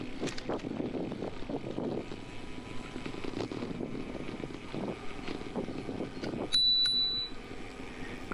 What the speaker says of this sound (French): j'aime bien mettre un petit coup de sonnette à cet endroit-là, pour prévenir les gens que j'arrive